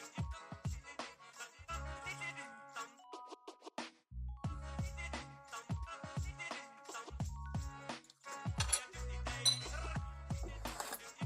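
Sheets of glass are lifted and shifted about during renovation work, giving repeated sharp clinks and rattling knocks at close range in irregular bursts, with a short pause partway through.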